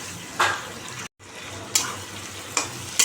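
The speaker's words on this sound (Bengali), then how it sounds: "এগুলো সব দিয়ে ভালো করে ভাজবো ক্যাপসিকামগুলো দিয়ে দিলাম পেঁয়াজটা দিয়ে দিলাম" Capsicum and onion frying in a pan with garlic, green chili and chopped ginger, a steady close sizzle broken by a few bursts of stirring, with no talk over it.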